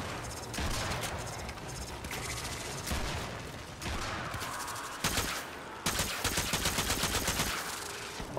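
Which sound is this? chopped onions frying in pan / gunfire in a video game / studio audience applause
gunfire in a video game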